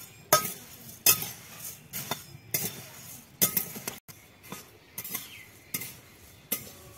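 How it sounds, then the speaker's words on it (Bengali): Puffed rice (muri) is dry-fried in a metal pan and stirred in sharp, spaced clinks and scrapes, about nine strokes in an uneven rhythm, close and clear with no talking. "এইভাবে মুড়িগুলো দিয়ে একটু ভেজে নেব।"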